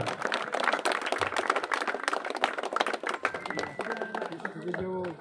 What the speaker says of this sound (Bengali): জোরে হাততালি হয়ে যাক পার্থের জন্য একটা।